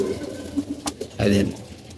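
Pigeons coo nearby in a few short, soft calls, with a fuller burst of cooing toward the end over a low background.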